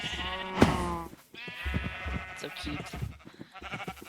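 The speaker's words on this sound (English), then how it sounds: "We have sheep." Sheep bleating on a farm inside a video game, a few short bleats near the start with a person talking over and after them.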